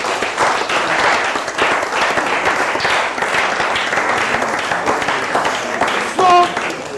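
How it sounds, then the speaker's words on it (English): Conference audience applauding after a closing dialogue session, sustained dense clapping throughout at steady loudness, with a brief tonal blip near the end. "I want you all to clap for yourself."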